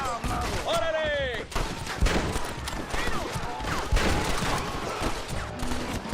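Rifle gunfire in the Western game Red Dead Redemption, a series of sharp shots mixed with clattering action sounds and background game noise under a faint voice.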